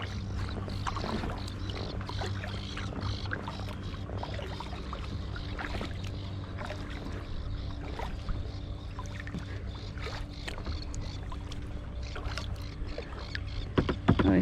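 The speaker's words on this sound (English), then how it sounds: "There goes the bakery boat" A small bakery boat passes on the water off Block Island, with a steady engine drone and water wash running throughout, growing a little louder near the end.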